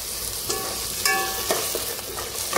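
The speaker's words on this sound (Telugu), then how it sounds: "100 ml పెరుగు అయితే వేసుకోవాలండి. మంచిగా వేసుకుని కలుపుకోవాలి." Yogurt being mixed into kushka masala frying in a pan, with steady sizzling and a few clear stirring scrapes and clinks of a spoon, close and without talk.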